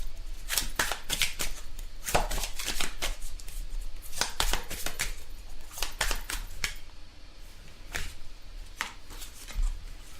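Tarot cards being shuffled and handled, sharp crisp riffles and snaps in irregular bursts, close and fairly quiet, with no talking.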